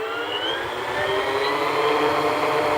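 A model Cessna Skymaster's engine runs up steadily toward full throttle, a loud continuous whirring drone with a rising whine and no break across the short stretch.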